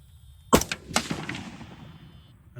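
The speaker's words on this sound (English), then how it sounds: "take a shot and see if he can hit it with the red dot" A single sharp gunshot cracks out at a mannequin head, fired through a red dot sight, followed by a few softer thuds and a faint decaying tail.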